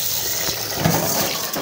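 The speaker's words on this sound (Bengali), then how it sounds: "চাল আগে ধুয়ে নেই" Rice being rinsed in water for khichuri in a home kitchen, a steady close wash of water sloshing and running for a brief moment, no talking.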